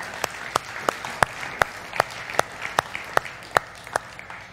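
Sparse applause in a church, heard as about fifteen distinct, evenly spaced claps over a faint background, more like a slow single clapper than a full crowd.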